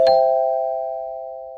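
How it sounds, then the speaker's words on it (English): A single bright bell ding for a notification chime rings out clean and close, then its steady tone slowly decays over about a second and a half with nothing else around it. "hit the notification bell"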